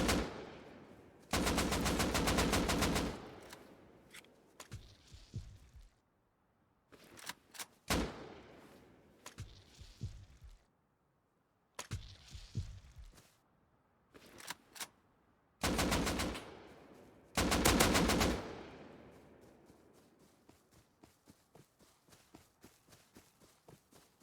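Gunfire in the survival video game Rust: several loud bursts of automatic fire separated by quiet gaps, with footsteps between and a rapid string of lighter shots near the end.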